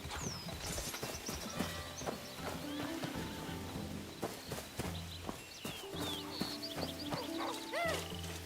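In the video game Where Winds Meet, a horse's hooves clip-clop in a steady walking rhythm and a whinny rises near the end, set against in-game ambience and music, faint overall, with someone talking over it.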